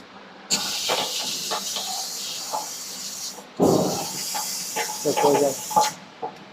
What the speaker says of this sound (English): air cleaner to flush the powder inside